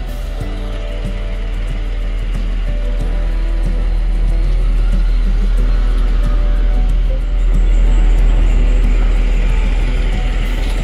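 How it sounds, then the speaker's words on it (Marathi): A Tata Nexon CNG car drives along highway NH66, giving a steady, loud in-cabin road and engine drone with low rumble throughout and no talking. "आज आपण घेऊन जातोय माझी नवीन नेक्सॉन CNG"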